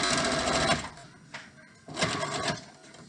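A sewing machine stitches a face mask with ties in two close bursts of fast mechanical whirring, separated by a short pause with a light click.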